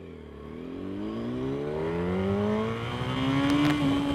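A 2007 Yamaha YZF1000 R1 motorcycle revs hard on a test ride, its loud, close engine note climbing steadily in pitch as the throttle opens.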